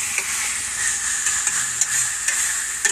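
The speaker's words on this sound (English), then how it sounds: "Let this simmer a little bit more" Grease and butter simmering in a cooking pot, giving a steady, close sizzle with soft crackles and a few sharp pops throughout, with no talking.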